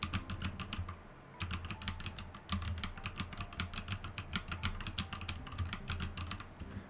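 Steady rapid typing on a computer keyboard, close and clear, with crisp clustered keystrokes and a brief pause near the one-second mark, no voices.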